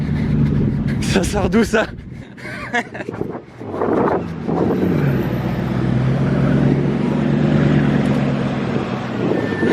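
Green carbon Bugatti Chiron Sport with a matte front driving past, a broad engine and road rumble with wind noise, loud and close, under excited talk from a bystander.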